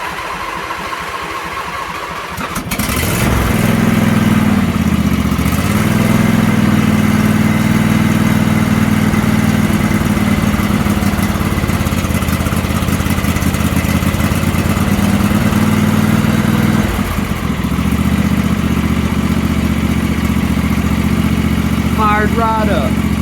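Small engine, left sitting about two weeks, cold-starts on choke on a farm: after a few seconds of quiet cranking it fires and settles into a loud, steady idle that runs to the end, with a brief change in pitch midway.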